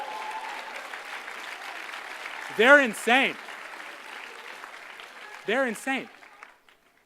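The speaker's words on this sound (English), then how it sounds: "give them a round of applause" Graduates and guests at a 2018 law class graduation ceremony clap steadily in the background. Two loud bursts of shouting voices break over the applause before it fades out at the end.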